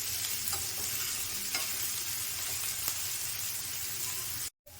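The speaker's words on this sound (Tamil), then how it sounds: "கொஞ்சம் வதங்கட்டும்" Salted onions sautéing in a pan, a dense continuous sizzle with a few faint spatula scrapes, close and steady, cutting off briefly near the end; no speech.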